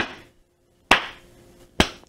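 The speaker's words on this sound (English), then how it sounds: "Two more claps." Two crisp hand claps roughly a second apart, close and loud, with quiet gaps between them and no voices.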